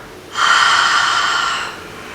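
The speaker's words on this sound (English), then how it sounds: "Try that one more time. Inhale, exhale." Ujjayi yoga breath, a single long audible breath through a constricted throat, a steady breathy hiss lasting over a second, close and fairly loud with no talk over it.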